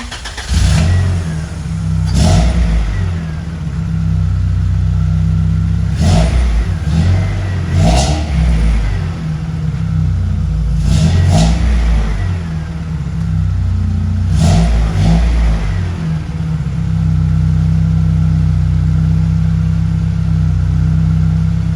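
A Honda Integra engine revs repeatedly in short loud bursts over a steady rumbling idle as the car is driven back and forth inside a shop, close and continuous.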